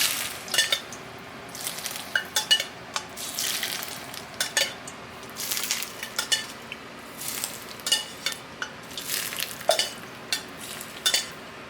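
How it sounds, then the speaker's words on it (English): Hot oil poured over steamed shrimp in a soy sauce dish, giving a steady sizzle with scattered sharp crackles and clinks of cookware, close and fairly loud, with no talking. "Okay, then we put the oil"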